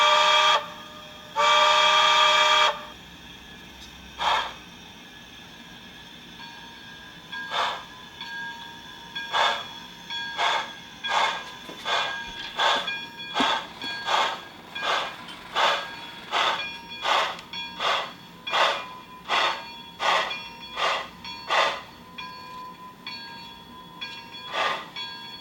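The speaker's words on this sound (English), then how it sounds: "I'm going to start by bringing out one of my BLI J-class locomotives" An HO scale BLI J-class steam locomotive model runs, starting with a brief whistle blast, then rhythmic chuffing that quickens into a steady, evenly spaced beat, fairly close and clear.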